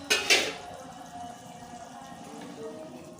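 A pot of fish curry comes to the boil, a couple of sharp clanks of the pot at first, then a soft, steady bubbling hiss close by.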